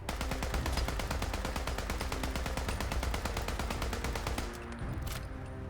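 Rapid automatic gunfire from Fallout 4 hammers out as a dense, steady stream of loud shots for about four and a half seconds, then cuts off into a brief quiet tail with one last crack.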